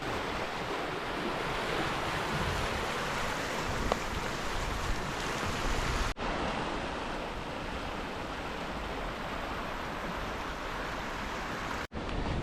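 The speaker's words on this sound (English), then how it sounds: "It can be hard to tell how fast the water is actually moving" A creek swollen after a winter thaw rushes fast and steady, a loud, continuous wash of water with some wind buffeting the microphone and two brief cuts in the sound.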